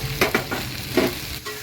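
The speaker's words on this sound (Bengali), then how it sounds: "এবার যে আমি ভেজে রেখেছিলাম কাঁঠালগুলো, এই এখন কাঁঠালগুলো দিয়ে দিচ্ছি, ভাজা কাঁঠালগুলো" Fried jackfruit pieces tossed into a spice mix in a pan, sizzling steadily up close, with a few distinct stirring scrapes and knocks spaced through it.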